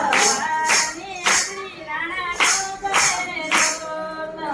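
Many hands clap in time at devotional singing, loud evenly spaced claps beating under voices singing.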